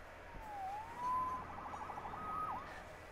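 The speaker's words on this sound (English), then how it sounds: "Saved by the siren." A police siren wails in Marvel's Spider-Man video game, its rising and falling tones sweeping past at moderate distance and fairly faint over low background rumble, alone without talk.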